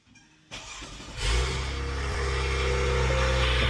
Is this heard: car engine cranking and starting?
yes